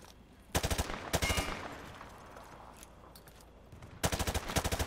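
Automatic gunfire from the Modern Warfare 2 video game rattles in sharp rapid bursts, one after another with short gaps, as rounds punch through light cover; close and loud.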